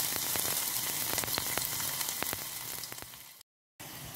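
Finely chopped shallots sizzling in ghee, giving a steady close crackle with scattered pops, briefly cutting to silence near the end before the sizzle returns.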